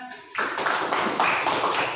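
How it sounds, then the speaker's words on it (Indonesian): Classroom applause erupts after a short pause, a dense patter of many hands clapping together, fairly close and steady until the end. "Tepuk tangan."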